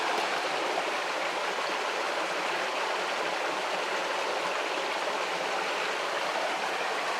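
Water runs steadily over a freshly dug specimen rock showing red manganese staining and quartz, producing a continuous, even hiss of pouring and splashing close up, with no voices.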